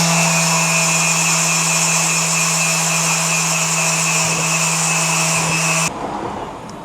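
Power sanding of a mid-century modern children's wooden dresser using heavy-duty 60 grit sandpaper: a loud, steady motor whine with gritty abrasive rasp, close by, running continuously before cutting off abruptly near the end.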